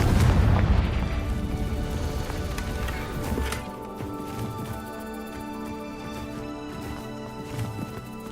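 Confringo spell explosion in Hogwarts Legacy, a loud boom at the start that decays into rumbling game noise and a steady background tone.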